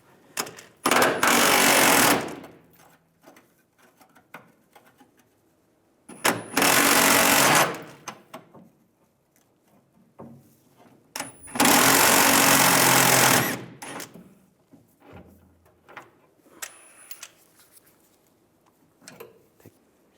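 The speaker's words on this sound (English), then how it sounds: "and a 21mm socket, we want to take this nut off right here" An impact or power tool with a 21mm socket runs off a leaf spring shackle nut on a 2007-2013 Chevrolet Silverado, loud rattling bursts in three long runs with quieter clinks and handling noise between them.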